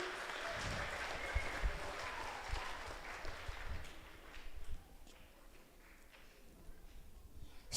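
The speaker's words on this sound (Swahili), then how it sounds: "Watoto tupige makofi." Children clapping their hands together inside a church during a Sunday School service, a dense burst of applause that is loudest at first and then thins out toward the end.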